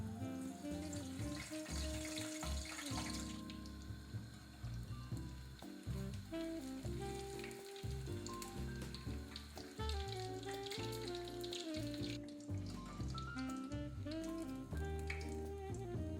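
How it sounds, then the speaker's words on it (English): Slices of Portuguese Christmas toast fry in hot oil, a soft continuous sizzle heard faintly beneath louder tonal background music for the whole stretch. "Fry them in hot oil on both sides until golden."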